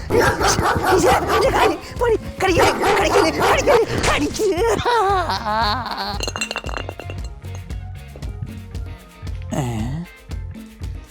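A dog yips and barks in a comedic scene, with clinking and people talking loudly over much of it, the barks coming in short bursts near the start and again near the end.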